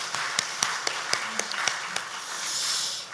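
A church congregation at a Sunday afternoon service claps for a missionary: a few distinct, sharp hand claps ring out, then give way to a soft hiss of clapping that grows slightly and fades.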